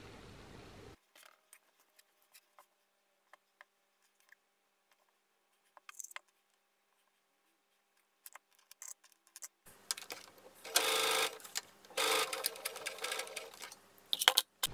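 A home sewing machine stitches down a garment facing on a Paddington Top. After a long near-silent stretch with scattered faint ticks and clicks, close rapid whirring bursts of stitching come in the final seconds.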